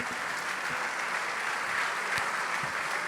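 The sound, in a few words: supporters applauding rugby player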